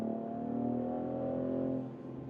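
A Mercedes-AMG GLC 43 accelerates with its sound actuation switched on, giving a steady, moderately quiet engine hum with a smooth tonal drone that eases off near the end.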